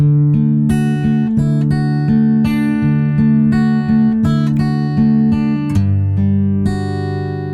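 A guitar strums two chords from a song back and forth in a steady rhythm, ringing notes close and clear with no voices.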